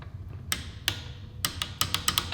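A torque wrench clicks repeatedly on a Honda Grom motorcycle, sharp metallic snaps at first spaced apart and then in a quicker irregular burst, close and crisp over a quiet background.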